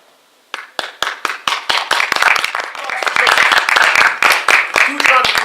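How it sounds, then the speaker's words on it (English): Applause from an audience breaks out after a spoken-word poetry performance, starting with scattered claps that quickly swell into dense, sustained clapping from a crowd, with some voices mixed in. "Huge round of applause"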